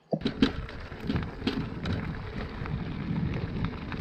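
Steady rain falls outdoors at an off-grid home, a dense hiss with scattered louder drops and patters close by; no voices.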